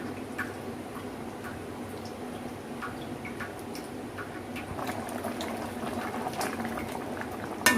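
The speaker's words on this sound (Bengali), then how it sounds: "এবার চিকেনটা আমি সেদ্ধ করে নেব।" Chicken simmers in a pot of boiling water, a continuous soft bubbling and popping at moderate level with scattered drip-like plinks, and no voices.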